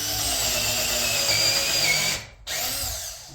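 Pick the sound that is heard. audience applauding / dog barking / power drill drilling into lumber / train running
power drill drilling into lumber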